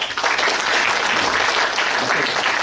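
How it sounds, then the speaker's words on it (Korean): Audience at a Korean education policy forum breaks into a full, continuous round of applause, dense and steady clapping filling the room at close, loud level. "박수 한번 쳐주십시오."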